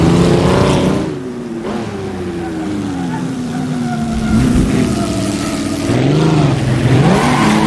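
Silver Arrows-era racing car engine in Assetto Corsa on a twisting circuit, a loud, close continuous roar that rises and falls as revs change through corners, dropping briefly then climbing again toward the end.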